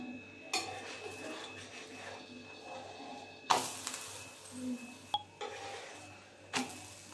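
Jowar amboli, a sorghum-flour pancake brushed with a little oil, being flipped on a hot pan: a few sharp metallic clinks and clatters of utensil against pan, spaced apart over a quiet kitchen background.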